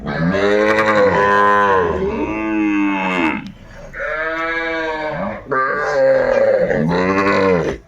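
Loud, close mooing from bull and heifer calves, a run of five long, drawn-out calls one after another with only brief pauses between them.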